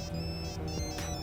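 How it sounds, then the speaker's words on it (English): A phone ringtone in a tabletop roleplaying session, a short electronic tone sounding steadily at moderate volume over a dense background. "Your phone rings."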